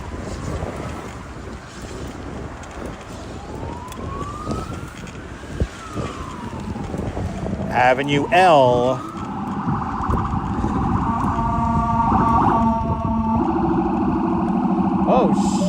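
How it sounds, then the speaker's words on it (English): A homebrew Mini Cooper rigged as a police car wails its siren on a busy New York City street during rush hour, the rising and falling tone sweeping past over wind noise and traffic, with someone talking. "a Mini Cooper with lights and sirens?"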